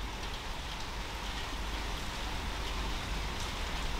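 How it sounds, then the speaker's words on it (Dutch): Heavy tropical downpour outside, a steady, dense hiss of rain drumming on surfaces at moderate distance, continuous and even throughout with no speech. "Ja, het regent pijpenstelen buiten."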